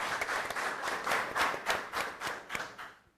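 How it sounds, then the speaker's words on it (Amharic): Warm applause from a studio audience at an Amharic TV game show, steady overlapping hand claps with rhythmic swells over about three seconds. "ሞቅ ያለ ጭብጨባ"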